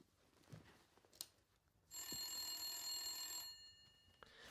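Telephone ringing in the FMV video game The Gallery: after a few faint knocks, one sustained bright electronic ring lasts about a second and a half, then cuts off into quiet room tone.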